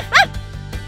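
A small pet dog gives a single sharp, high yap up close, followed by a faint whimpering whine over a low background hum.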